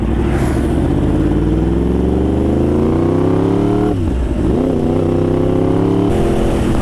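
A Yamaha R1 motorcycle engine revs up steadily during a ride, its pitch climbing, then dipping sharply as a gear changes before rising again; loud, close and continuous throughout with no talk.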